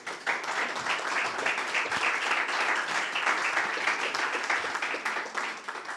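A church congregation applauds throughout, a steady wash of many hands clapping at moderate distance with no speech over it.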